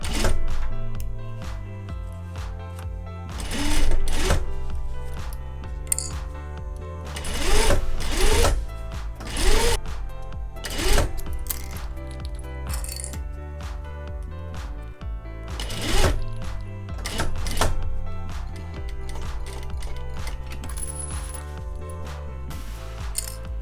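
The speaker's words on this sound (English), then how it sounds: "we're going to stitch the short side and the long edge" A sewing machine stitches the short side and long edge of a small fabric tote bag in several bursts of rapid mechanical whirring, starting and stopping between pauses, close and loud with no talk.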